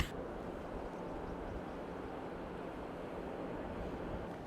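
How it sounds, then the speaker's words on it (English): Ocean surf washes onto Caswell Beach on the Welsh coast, a steady, soft broadband roar of breaking waves with some wind noise over the microphone, faint and continuous with no talking. "there's something about the way that the waves are on the beach"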